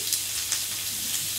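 Bacon sizzles in a ribbed grill pan before chicken skewers with zucchini and mushrooms go on, a steady close hiss of hot fat with a few small pops and no talk.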